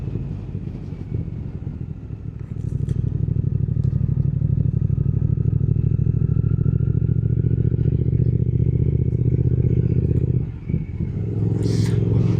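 A Triumph Speed Twin 1200 motorcycle cruises in third gear at around 50 km/h, its steady, loud twin-cylinder engine drone holding even throughout with a brief dip in tone near the end.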